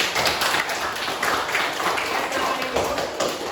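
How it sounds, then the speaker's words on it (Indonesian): A class of teacher-training students in a history lesson claps for a group that has just presented, a dense patter of hand claps running steadily throughout at moderate loudness. "Oke, tepuk tangan buat kelompok"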